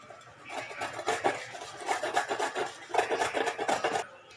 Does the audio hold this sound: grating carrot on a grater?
yes